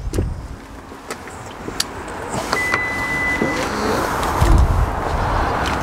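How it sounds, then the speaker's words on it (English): The electric tailgate on a used Lexus hums as its motor runs, with a thin whine, a couple of clicks and a low thud as it closes and opens. No voices. "Electric closing and opening tailgate"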